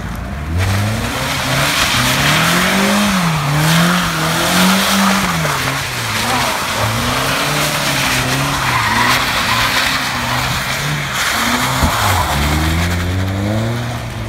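A car doing sideshow stunts and drifting screeches its tires in a long, loud continuous squeal over a revving engine, the pitch rising and falling as it slides, with a brief dip before another burst.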